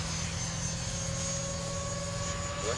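An RC F-16 jet model, Freewing or E-Flite, flies overhead with a steady, even whine and drone at a moderate distance, holding constant with no talk.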